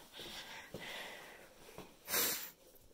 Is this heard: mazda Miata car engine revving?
no